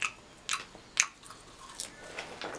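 Loud, close chewing with wet, squishy bites and smacking, several sharp bursts in a steady rhythm and no talk.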